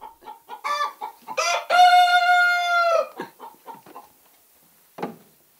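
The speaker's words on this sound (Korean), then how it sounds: "힘차게 회를 치는 닭 울음소리" A farmyard rooster crows loudly at dawn beside a henhouse, giving one long sustained cock-a-doodle-doo between shorter clucking calls, then a single sharp cluck, all close by with no talking.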